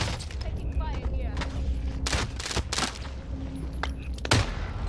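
Gunfire in Call of Duty: Warzone, with the Lapa SMG in play: a steady bed of near and distant shots with several sharp, louder bursts, while a player talks over it.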